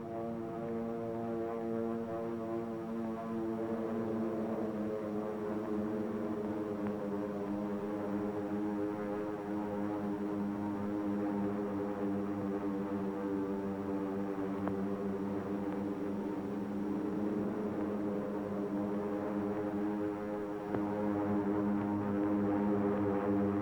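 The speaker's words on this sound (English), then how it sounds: "the drone of planes was faintly heard" Propeller warplanes approaching Pearl Harbor from the Pacific, a steady droning engine hum with layered harmonics, distant and continuous, slowly swelling throughout with no speech.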